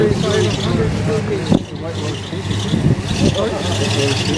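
A late-1944 Sherman tank drives around, its low engine rumble and track clatter rising and falling at moderate distance, with a sharp knock partway through and people talking nearby.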